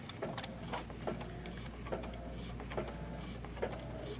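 An embroidery machine tacks appliqué onto a tea towel with a steady low hum and regular soft needle taps under a continuous drone, moderately quiet and constant throughout.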